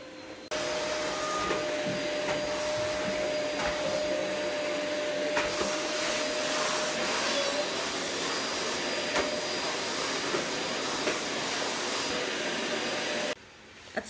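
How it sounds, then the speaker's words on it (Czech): A household vacuum cleaner runs steadily indoors at close range, a loud continuous whine and rush with a sustained tone that holds for almost the whole stretch before cutting down near the end. "A Adoš jde právě vysávat, nebo vysává."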